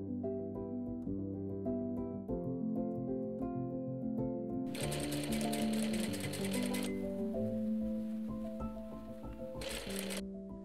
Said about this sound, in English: I'm stitching the bias tape along the neckline, right sides together with a